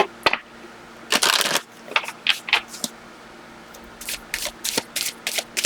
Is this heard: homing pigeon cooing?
no